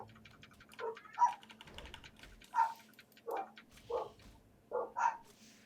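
Dogs bark in short bursts of about eight separate yaps spread across the stretch, moderately close and alone with no talk over them.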